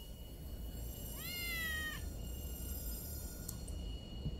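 A single clear kitten meow rises and falls in the Harry Potter and the Order of the Phoenix video game, standing alone over a quiet background hum.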